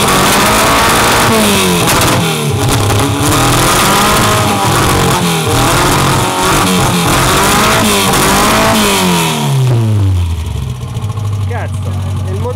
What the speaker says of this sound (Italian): il motore ricorda un R1 senza marmitta